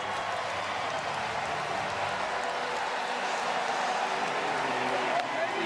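A college baseball crowd at a College World Series game between Texas A&M and Tennessee roars and applauds after a home run, a steady dense wash of cheering and clapping that holds evenly throughout.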